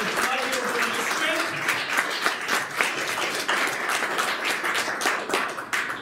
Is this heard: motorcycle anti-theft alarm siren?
no